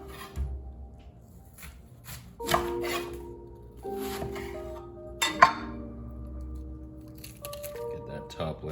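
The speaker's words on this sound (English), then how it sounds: "Start by dicing the onion." Knife dicing an onion on a cutting board, irregular close chops and soft squishy cuts with occasional clinks, spread over several seconds while someone talks.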